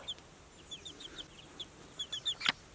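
A rose comb rooster clucks softly in quick repeated notes that grow slightly louder toward the end, close by and with no talk.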